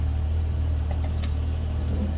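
A Jaguar XJS with no power steering labours up a hill, its engine a steady, moderately loud low drone that holds evenly throughout with no one speaking.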